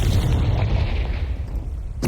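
A Confringo spell bursts into a deep, booming explosion in Hogwarts Legacy, loud and close, with a rumbling tail that fades before a sharp final pop.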